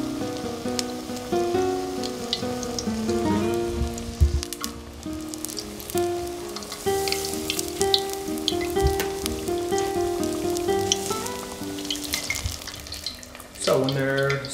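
Zucchini flowers fry in hot oil with a steady, close crackling sizzle that runs the whole time, partly under music.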